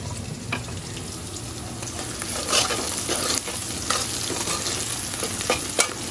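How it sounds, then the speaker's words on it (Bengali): Mung dal dry-roasting and being stirred in a pan for thin khichuri, a steady gritty rustle with scattered scraping strokes and light crackle, close and continuous without voices. "ফার্স্টে মুগ ডালটা ভেজে নিচ্ছি"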